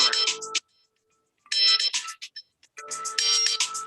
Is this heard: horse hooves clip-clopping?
no